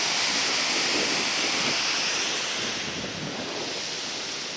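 Steady broadband rush of falling water at Siffleur Falls, a continuous loud roar with some wind buffeting, no voices.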